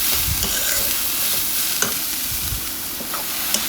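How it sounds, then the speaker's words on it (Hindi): Mixed vegetables roast in a pan over a medium flame, a dense, steady sizzle broken by occasional soft scrapes and taps as a spoon stirs them, close-up and without speech. "तो पहले हम अच्छे से सारी सब्जियों को मिक्स कर देंगे और मैं मीडियम फ्लेम पे इसे करीबन 5 मिनट के लिए इसे"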